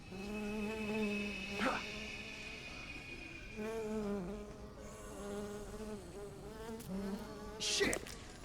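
A bee or hornet buzzes steadily in the Dead Rising video game, a droning insect whine that wavers in pitch, with a couple of sharp sound-effect hits breaking through.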